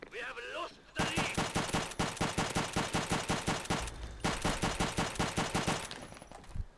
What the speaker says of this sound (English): Just uh, burst firing a bit here from single shots